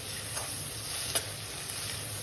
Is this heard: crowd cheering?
no